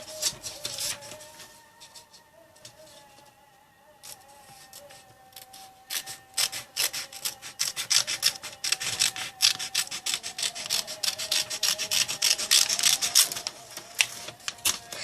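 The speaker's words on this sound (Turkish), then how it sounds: "Şimdi onu da makasımla kesiyorum." Scissors snipping through paper in a steady run of crisp cuts, quiet at first and growing louder and busier toward the end, with no talking.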